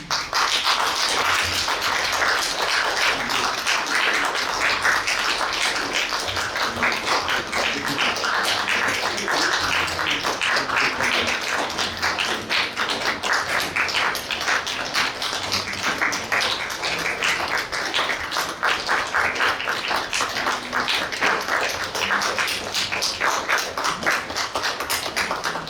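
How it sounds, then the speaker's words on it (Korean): An audience applauds to welcome graduates entering a degree ceremony at a Korean counseling graduate university, a dense, steady clatter of many hands clapping continuously throughout, with no talk. "모두 박수로 환영해 주시기 바랍니다"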